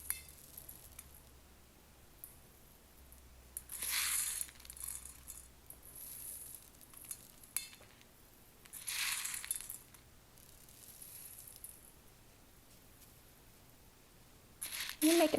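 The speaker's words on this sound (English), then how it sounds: "now we're going to take our glass gem corn and we're going to fill up our bean bag" Glass gem corn kernels are poured into a fabric bean bag in several bursts of soft rattling and pattering, separated by quieter pauses, close and fairly faint.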